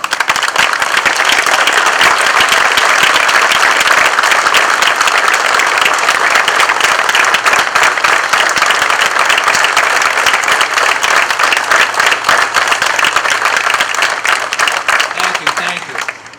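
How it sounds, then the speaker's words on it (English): Loud, sustained applause from a crowd at a fire department September 11 memorial ceremony, dense clapping holding steady for about fifteen seconds before tapering off abruptly. "I just wanted to give Lieutenant Flynn a round of applause and say thank you for all he does for this"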